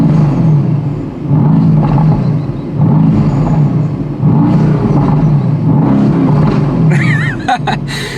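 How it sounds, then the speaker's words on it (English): A 2017 Mercedes-AMG GT C Roadster engine revs repeatedly with the roof down, in rising and falling surges, loud and close, with a brief high whine near the end. "The roof is down, let's hear that engine."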